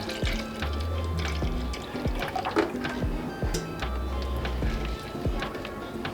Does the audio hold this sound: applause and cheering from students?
no